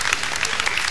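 Audience applause after a guest's story at a talk event, dense steady clapping from a crowd with no pauses, filling the short moment at even loudness.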